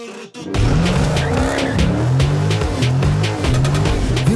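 Car tires squeal loudly while burning rubber, a continuous wavering screech riding over a revving engine, close and sustained with no talking.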